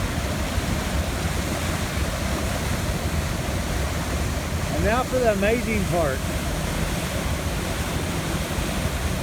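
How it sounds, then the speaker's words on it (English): A waterfall pours into the first pool of an outdoor stream, making a steady, broadband rushing roar that continues throughout; a voice speaks briefly over the water partway through. "Look at all that water coming off that waterfall in the first pool."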